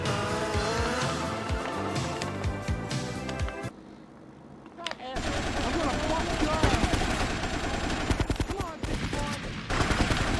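Rapid AK automatic fire in a Grand Theft Auto: Vice City Stories rampage, loud repeated bursts over game music and a roaring vehicle with squealing tires, with a short quiet gap partway through and someone talking over it.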